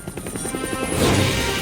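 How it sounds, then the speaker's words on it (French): A toy helicopter arrives delivering a golden dollhouse, its rotor chopping in quick, even pulses that build into a louder, whooshing rush as it comes close. No voices are heard. "Qu'est-ce qui arrive en hélicoptère?"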